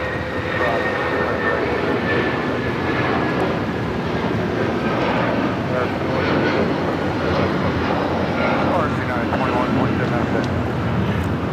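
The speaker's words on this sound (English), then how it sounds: "This is United Airlines 2127 taking off to Newark on the 757-200" United Airlines Boeing 757-200 taking off from LAX, a sustained loud jet roar swelling gradually over several seconds, with people talking underneath.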